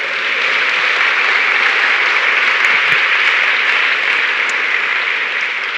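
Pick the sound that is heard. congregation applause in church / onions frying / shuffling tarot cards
congregation applause in church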